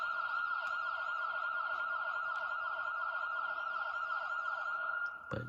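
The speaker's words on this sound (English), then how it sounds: "And of course, there's the sirens at the end." Goal horn from the NHL 21 video game, a custom New Jersey Devils horn, ending in loud wailing sirens that sweep steadily and continuously before cutting off abruptly near the end.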